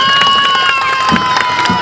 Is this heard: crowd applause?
yes